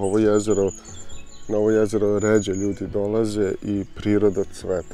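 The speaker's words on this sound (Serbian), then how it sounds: "Ptice se čuju okolo" Birds chirp faintly around a clear, overgrown lake in nature, with small high calls scattered beneath a person talking steadily throughout.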